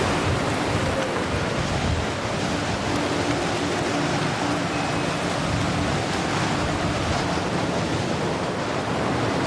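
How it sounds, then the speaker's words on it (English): Typhoon winds around 110 to 120 miles an hour roar steadily alongside crashing surf, a loud, unbroken wash of wind and waves with no letup and no voices. "120 mile an hour wind"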